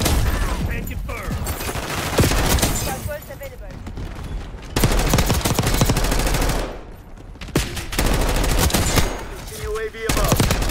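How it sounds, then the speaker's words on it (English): Sniper and automatic gunfire in the Black Ops 6 shooter game, bursts of loud shots recurring across the span with brief lulls between, over constant game noise with radio-style voice callouts. "Enemy sniper shooting."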